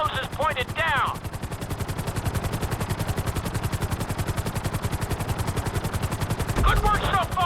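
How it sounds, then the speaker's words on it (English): A GTA V helicopter at full speed during a flight school lesson, a loud, steady rapid rotor thump throughout, with voices speaking briefly at the start and end. "keep the nose of the helicopter tipped"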